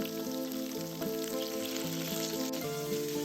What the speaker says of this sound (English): After the oil is hot, put the tofu in piece by piece. Slow fry over medium-low heat.